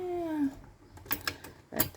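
A cat gives a drawn-out, falling meow up close, followed by scattered shuffling and clicking noises.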